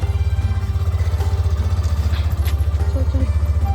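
A motorcycle rides along on a cold day, its engine giving a close, steady low drone with a rapid pulsing throb, with faint clatter and wind-like noise on top.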